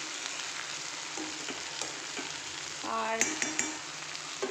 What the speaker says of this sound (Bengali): এইদিকে ওই বরবটি আলু পেঁয়াজ দিয়ে ঝাল করছি